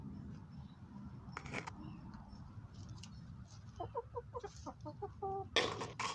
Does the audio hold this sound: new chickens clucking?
yes